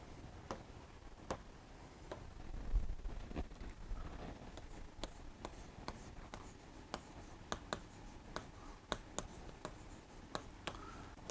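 Pen or marker scratches out notes during a Class 12 accountancy lesson on partnership firm dissolution, a steady run of quiet strokes and sharp ticks with no speech.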